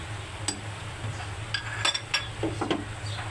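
A spatula stirs chili powder and spices in a cooking pan for a brinjal and fish curry, giving sparse, light metallic clinks and scrapes over a steady low hum, with no talking.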